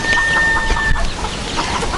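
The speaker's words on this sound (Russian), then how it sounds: "Шелковая китайская курочка." A broody Chinese Silkie hen, just lifted off her nest, gives a run of close, loud clucks and throaty grumbles in quick irregular bursts.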